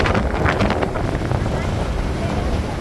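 Strong sea wind on the coast roars and buffets the microphone continuously, a loud, rushing gusty noise with no pauses.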